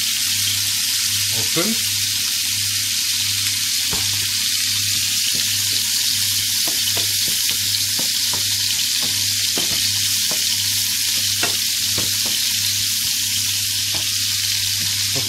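Onions fry on a stovetop with a loud, even hiss that runs the whole time, broken by small pops and crackles. A voice is briefly heard.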